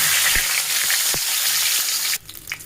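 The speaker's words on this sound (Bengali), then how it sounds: "এখন আমি কড়াইতে আর একটু পরিমাণে তেল দিয়েছি এখানে কিছুটা দুটা তেজপাতা ছিঁড়ে দিয়েছি দারচিনি এলাচ আর হচ্ছে লং" Bay leaves, cinnamon, cardamom and cloves fry in oil in a wok, giving a loud crackling sizzle with scattered pops. The sound drops off sharply near the end to quieter, intermittent spatters.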